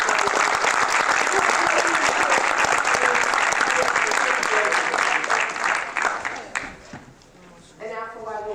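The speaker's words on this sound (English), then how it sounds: "Can we have another round of applause for them?" At a board of education public session, an audience gives athletes a loud, sustained round of applause that thins out near the end into scattered claps, after which a voice begins speaking.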